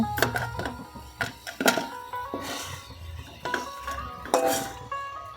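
Metal utensils clink and scrape against a pan as fried potatoes are lifted out outdoors, several sharp close knocks and rattles in an uneven rhythm.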